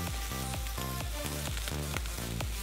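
Pork tenderloin sizzles steadily in a frying pan over reduced stovetop heat, a constant close crackle and hiss, with faint rhythmic background music underneath.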